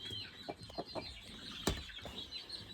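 Chickens cluck softly and intermittently in a baby chick barn, a faint scattered chorus of short clucks and peeps with one sharper squawk near the middle.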